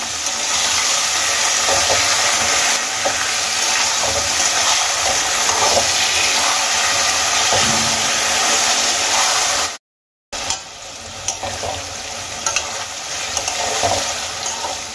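Thin slices of small eggplant fry in hot oil in a pan for a spicy eggplant-potato dish, giving a loud, steady, hissing sizzle throughout, broken by one brief silent gap before it resumes.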